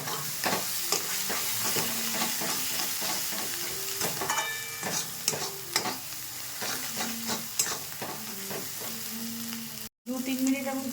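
A spice paste of ground cumin and red chili powder fries in oil while being stirred, giving a dense, continuous sizzle with repeated scraping clinks of a spoon against the pan, close and loud.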